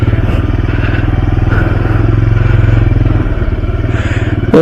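A motorcycle engine drones steadily and loudly close by, its low rumble holding constant as the bike rides along.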